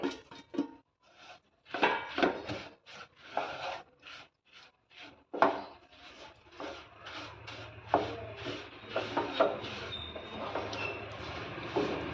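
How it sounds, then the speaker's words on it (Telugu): Fried sesame seeds are stirred quickly into hot jaggery syrup in a pan, producing a string of irregular close clanks and scrapes of a spoon against metal, with short pauses between bursts. "ముందుగా మనం ఫ్రై చేసి పెట్టుకున్న నువ్వుల్ని ఇందులోకి కొద్ది కొద్దిగా యాడ్ చేస్తూ బాగా మిక్స్ చేసుకోవాలి"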